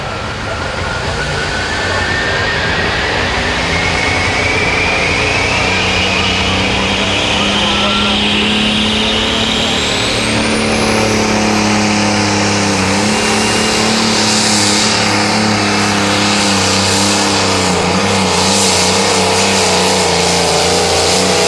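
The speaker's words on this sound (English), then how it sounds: "that 4560, that tractor's always had a different sound to it." Pro stock pulling tractor number 4560 roars at full throttle dragging the sled down the track at a Mound City, Missouri pull, a loud continuous engine howl with rising pitch while an announcer talks over it.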